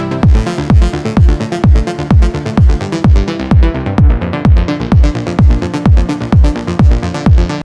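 A layered house arp plays together with a punchy four-on-the-floor kick drum. The kicks thump loud and even under the bright, busy arp pattern, with no voices.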